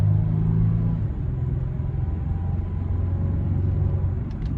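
A 2023 Toyota 4Runner with a large-displacement V6 engine, a steady deep rumble and drone heard from inside at cruising speed, loud and continuous with no voices.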